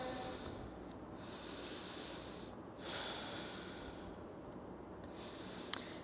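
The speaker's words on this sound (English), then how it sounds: "Breathing in and breathing out here." Slow, steady breathing during an aerial yoga class, long airy inhales and exhales repeating under a constant hiss of background noise, close and soft with no speech.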